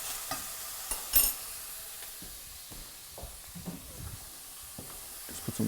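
Beef heart chunks stirred and frying in a pan, a soft sizzle with intermittent scraping and clinks of the utensil, fairly quiet and close, with no voices.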